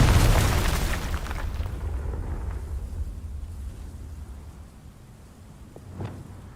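The Confringo spell in Hogwarts Legacy goes off as a big booming blast at the start, its rumble fading over several seconds, with a small sharp hit near the end.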